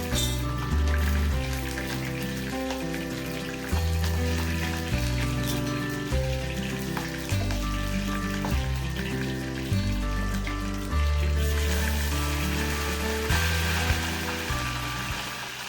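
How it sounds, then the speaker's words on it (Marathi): Hot tempering of chillies and coriander crackling as it is poured over freshly steamed dhokla, a soft continuous sizzle and patter beneath prominent background music that repeats in steady phrases. "हा जो फोडणीचा आवाज आहे"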